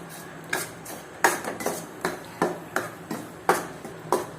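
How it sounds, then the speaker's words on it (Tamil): A spatula knocks and scrapes against a pan as ragi flour with a pinch of salt is dry-roasted and stirred, giving sharp, evenly spaced taps about every half second over a quiet background. "இப்போ இது நல்லா வறுத்துக்கலாம்"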